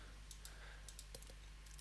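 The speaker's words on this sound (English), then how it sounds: "If I hold down the control key, I can position it with my" Keyboard arrow keys pressed on a computer to nudge a shape into position, a few quiet, sharp clicks at an irregular pace over faint background hum.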